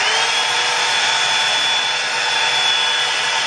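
A Revlon One Step hair dryer volumizer runs on its high setting, a loud, steady close-up whir and rush of air that holds unbroken throughout and cuts off at the very end.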